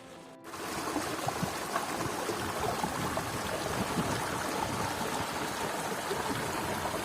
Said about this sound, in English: That little waterfall coming down from the stones from the cliff face really was quite nice, and it just rolls straight into the sand, forming a little river.